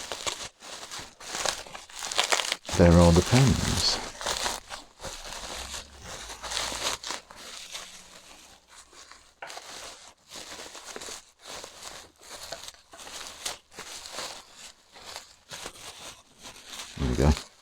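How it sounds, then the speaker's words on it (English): Crinkling and crackling of bubble wrap from a mail package being unboxed, close and intermittent, with a person talking over much of it. "Lots of bubble wrap."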